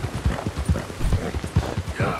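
Horse hooves clopping at a steady walking rhythm on a rain-soaked muddy path in Red Dead Redemption 2, close and heavy, with a low background of ambient noise.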